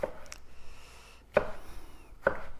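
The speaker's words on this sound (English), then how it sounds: "just gonna chop this up" A knife chopping grilled watermelon on a board, three sharp separate cuts spaced apart, close and fairly quiet with no talking.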